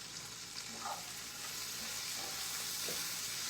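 Green beans frying in bacon grease in a pan, a soft, steady sizzle with faint scraping stirs, quiet and close, no talking.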